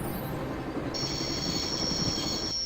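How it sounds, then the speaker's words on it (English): A train braking in the video game Broken Sword: steady rumbling rail noise with a sustained high metallic wheel squeal cutting in partway through, loud and continuous with no voices. "I always wanted to stop a train"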